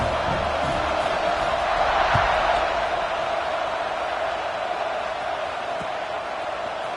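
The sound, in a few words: football stadium crowd cheering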